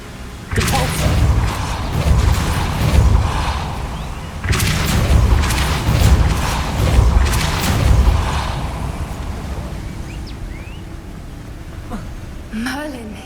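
The Depulso force spell goes off twice in Hogwarts Legacy, each cast a heavy, booming blast with a long crackling, rumbling tail, the second about four seconds after the first, then quieter ambient game sound.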